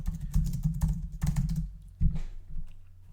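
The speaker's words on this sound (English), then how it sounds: "let me type it in right here." Close keystrokes on a computer keyboard come in quick irregular bursts, then a short pause and a few more taps, with no talking.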